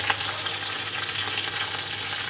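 Chopped tripe sizzles and fries in hot oil with golden-browned onions in a pan, a steady close crackling hiss with no talking.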